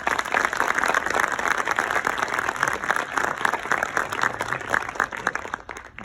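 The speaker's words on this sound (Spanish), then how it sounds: "caluroso aplauso del público" A conference audience at a programming talk in Madrid applauds steadily after the presentation ends, dense continuous clapping from a sizeable crowd at moderate level that begins to fade right at the end.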